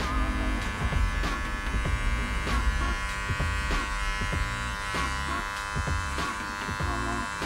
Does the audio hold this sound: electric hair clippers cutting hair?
yes